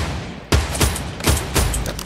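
Rapid bursts of gunfire in the Fortnite battle royale video game: four loud, sharp volleys about a third of a second apart, ringing over a steady low background rumble.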